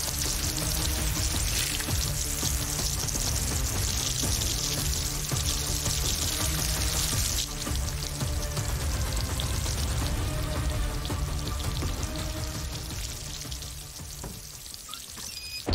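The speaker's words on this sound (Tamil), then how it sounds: "டேப் ஏதாவது உடஞ்சிருச்சா?" Water rushes from a broken tap in a house at night, a steady, dense hiss that runs without a break and eases slightly near the end.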